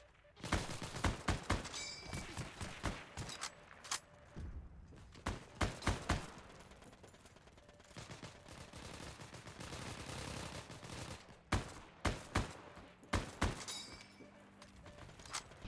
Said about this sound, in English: taking out all these players with the M1 Garand